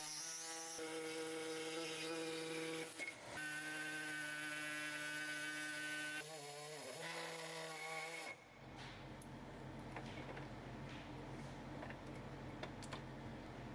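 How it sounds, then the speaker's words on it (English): A power tool cuts through the bottom of a driveshaft carrier frame on a Mk1 Audi TT or Mk4 VW R32, a steady close whine with brief interruptions, then a harsher grinding, scraping texture for the remaining stretch. "Make a cut on each side of the bottom of the carrier frame."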